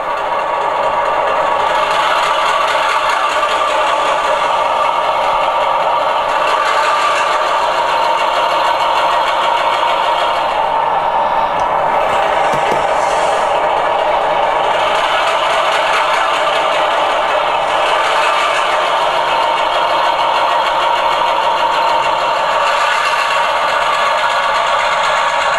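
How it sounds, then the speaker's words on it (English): A Walthers SW7 model switcher locomotive's sound decoder runs a startup sequence and then responds to throttle: a loud, continuous diesel engine drone with rattly, knocking texture and slight shifts in tone, with no voices over it. "Do a startup sequence here. Give it a little bit of throttle."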